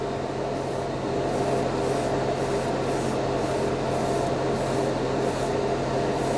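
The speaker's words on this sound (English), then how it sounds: "Mr. Surfacer primer in the spray can" Steady hissing spray from an aerosol can of Mr. Surfacer primer, continuous and close, with a faint rhythmic pulsing and no voices.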